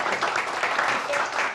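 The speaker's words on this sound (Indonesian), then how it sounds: "tepuk tangan dulu." Brief applause from a small audience on a football talk show discussing Arsenal and Chelsea, a fairly even patter of clapping with faint voices mixed underneath.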